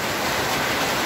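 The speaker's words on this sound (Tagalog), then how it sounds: "Ang lakas ng ulan." Torrential typhoon rain pouring as a dense, steady, loud hiss with no break and no voices.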